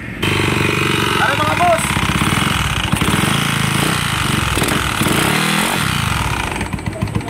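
A loud motorcycle engine, still noisy despite all its parts being replaced, runs with a rough, rapid mechanical clatter and uneven pulsing, while someone talks over it.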